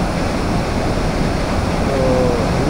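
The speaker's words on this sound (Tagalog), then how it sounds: "Yan ang mismo yung bagsak ng tubig dyan," Tinuy-an Falls in Bislig City, Surigao pours down as a loud, continuous rushing roar of water that stays steady and dense throughout, with no voices.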